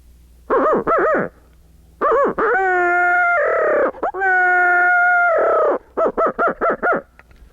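A call used for deer hunting mimics a barred owl's hooting: quick paired hoots, then long wavering drawn-out calls, then a fast run of clipped hoots at the end, loud and close, with no voices.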